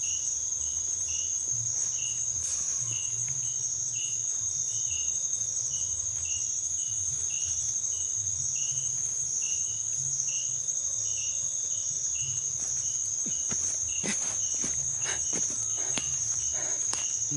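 Crickets chirp at night at a campsite, a shrill continuous high trill with pulsing chirps layered over a low steady hum, with scattered faint clicks and rustling steps nearby.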